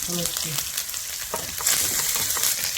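Onions and spices such as curry leaves fry in hot oil, a loud continuous sizzle with brief stirring scrapes, close by and alone.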